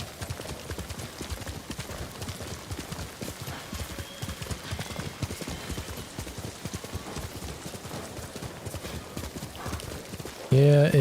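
Horse hooves clip-clop steadily and fast in Ghost of Tsushima, a galloping rhythm of dense repeated strikes running through the whole stretch, with a brief whinny-like burst near the end and voices talking over it.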